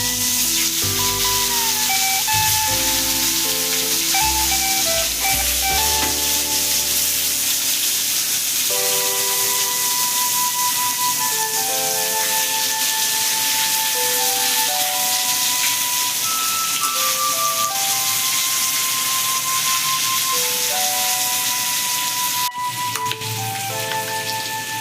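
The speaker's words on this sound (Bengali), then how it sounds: "বেগুনটা আমি তেলের মধ্যে দিয়ে দিলাম।" Eggplant pieces frying in hot oil give a steady, hissing sizzle like light rain, running continuously beneath background music with no talking.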